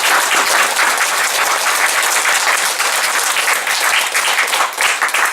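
A church congregation applauds to congratulate their pastor on his installation as senior pastor emeritus, producing loud, dense, sustained clapping that fills the room without a break.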